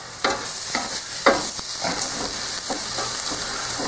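Risotto rice fries in a pan while a spoon stirs it in regular strokes, each scrape rising over a constant sizzle and hiss, close and fairly loud, with no voices.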